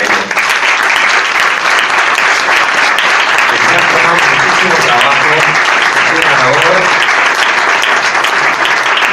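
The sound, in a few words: audience applause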